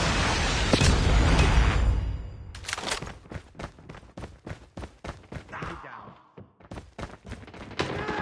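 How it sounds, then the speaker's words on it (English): A predator missile strike in the Call of Duty Mobile game: a long rumbling blast for about two seconds, then a rapid series of sharp thuds and impacts, fairly close and loud, with game voices in the mix. "Predator missile inbound."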